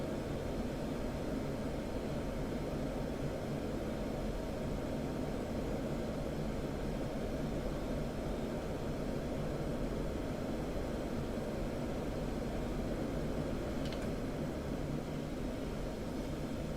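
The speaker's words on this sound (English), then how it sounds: "Give it a little bit of afterburner to speed up." An F-16 jet engine running on afterburner in the DCS flight simulator, a continuous broadband roar that stays loud and even throughout, with no voices over it.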